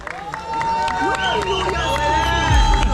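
Teammates cheer and clap at a triathlon podium, an excited crowd of whoops, shouts and scattered applause close by, with voices calling out over the steady din.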